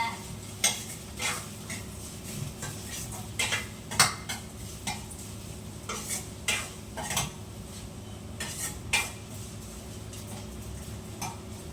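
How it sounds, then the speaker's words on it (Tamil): Fish curry ingredients being sautéed with salt in a pan at home, with a steady low sizzle under repeated sharp scrapes and taps of a spoon against the pan, close by and moderately loud. "இப்ப நல்லா வதக்குங்க"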